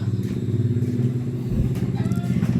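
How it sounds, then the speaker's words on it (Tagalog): A motorcycle arrives nearby, its engine a steady, throbbing drone that grows a little rougher toward the end. The sound stays loud and continuous with no talk over it. "At parang nandito na si Christian, naririnig ko na po yung motor."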